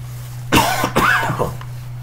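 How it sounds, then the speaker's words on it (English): A single person coughs twice in quick succession, close and clear over a steady low electrical hum, then quiet. "Please excuse me, I was coughing."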